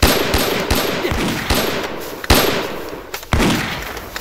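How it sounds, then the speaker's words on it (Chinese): Heavy gunfire and shelling blasts in a war film battle scene come as sharp, loud bursts, some in rapid succession and others separated by short rumbling decays, with no talking. "炮击城楼， 嘿，一连准备，开炮！"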